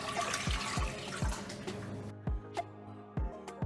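Three cups of water pour into a pot on a stove as elderberry syrup preparation begins, a steady close splashing stream for about two seconds that cuts off, followed by a few soft knocks.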